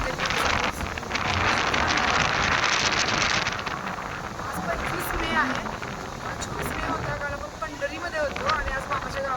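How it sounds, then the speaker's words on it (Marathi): Heavy seasonal rain in a farming village makes a dense, steady hiss that is loudest at first and eases slightly, with people talking over it. "मोठा पाऊस आला."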